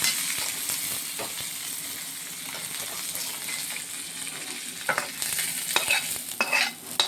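Grated coconut and curry leaves frying in a pan as a tempering for a small onion kara kulambu, a steady sizzle with brisk stirring scrapes that grow louder and busier near the end.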